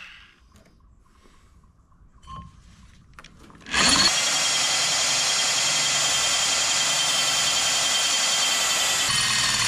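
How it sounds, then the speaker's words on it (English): After a few quiet seconds, a power drill starts abruptly and whines steadily at close range, boring a hole straight through a metal truck camper frame mount. "Now I just need to drill a hole straight through this guy"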